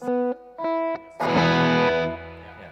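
Electric guitar power chords played through heavy distortion, with the third muted: three short, loud chord stabs, then a full chord left ringing and slowly decaying. There is no talk over the playing.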